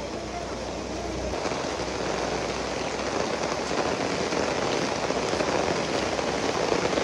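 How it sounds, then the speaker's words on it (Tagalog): Heavy rain pours in Davao, a dense, loud hiss of drops on surfaces that holds steady and grows slightly stronger throughout, with no voices over it. "Uli na ko kay kusog ng ulan,"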